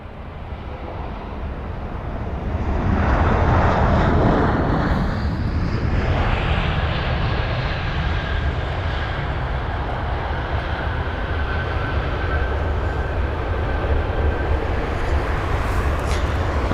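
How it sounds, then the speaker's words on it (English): Croatia Airlines Airbus A319 arriving from Split and landing at London Heathrow: a broad, loud jet roar swells over the first few seconds, then holds steady and sustained, with no voices. "it's going to be the Croatian Airlines A319. And that is the arrival from Split"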